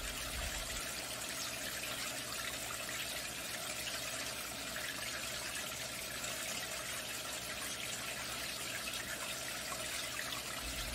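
Water trickles and splashes steadily into a natural-style indoor fish pond, a soft continuous flow without voices.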